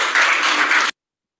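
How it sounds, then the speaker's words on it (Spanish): A class of schoolchildren claps together to close a lesson, a steady dense burst of applause close by that stops abruptly after about a second. "nos vamos a dar un aplauso entonces para finalizar nuestra clase"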